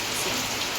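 Steady drizzling rain falling outdoors on a home courtyard, an even hiss of close raindrops with no voices.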